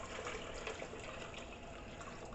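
Water pours steadily into a pot for cooking pork chitterlings in a continuous, soft rushing stream, faint and even throughout, with no voices.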